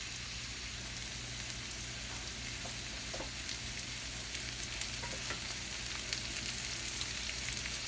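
Mixed vegetables fried and stirred in a pan, cooked with dried fish and coconut milk, giving a soft continuous sizzle with faint scraping of the utensil, no talking.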